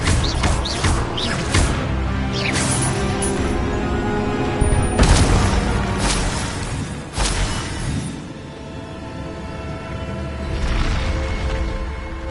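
Spell blasts and booming impacts from the Hogwarts Legacy video game, with a Griffindor character casting Expelliarmus; loud repeated bursts and thuds over a dense, busy game soundscape.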